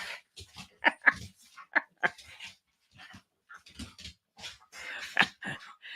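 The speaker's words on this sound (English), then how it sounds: "We're just watching the bonkers dogs actually having zoomies because that is what they are." Excited dogs having zoomies, tearing around with short yips, whimpers and panting in irregular bursts, fairly close, with brief quiet gaps between outbursts.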